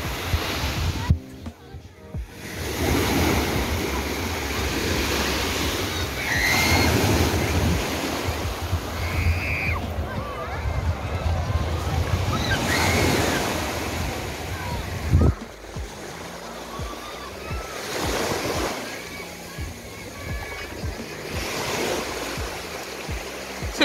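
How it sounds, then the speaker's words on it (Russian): Ocean waves wash continuously on Amadores beach, Gran Canaria, on a crowded, windy day, a steady broad surf roar with rising swells and a sharp thump near the middle, wind buffeting the microphone and faint voices underneath. "Так здорово поплескаться в волнах, они так качают."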